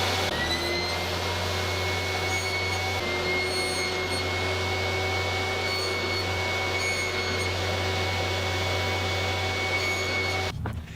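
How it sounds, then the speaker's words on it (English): A table saw cuts grooves in wooden dividers: a loud, steady whirring drone of the spinning blade holds for about ten seconds, then cuts off abruptly near the end. "I'll finish cutting the grooves in these dividers."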